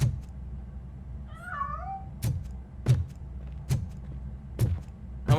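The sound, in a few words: cat meowing in RoboCop: Rogue City video game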